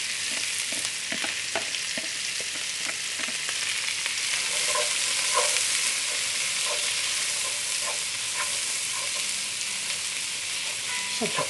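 Vegetables for red wine braised short ribs sauté and sizzle in a hot pan, a steady frying hiss running throughout with scattered soft clicks and scrapes from stirring, close and even in level, with no talking.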